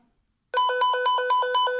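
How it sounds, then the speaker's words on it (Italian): A walkie-talkie sounds its call tone after a short silence: a clear, steady electronic ringing pulsed in rapid even beats, close and fairly loud, with no voices. "Premo questo pulsante e squilla."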